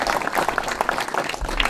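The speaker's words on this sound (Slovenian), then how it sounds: "si res po mojem zaslužite aplavz za vse" Brief burst of lively audience applause for veterans at the opening of a historic weapons exhibition, close and energetic clapping with distinct individual claps standing out.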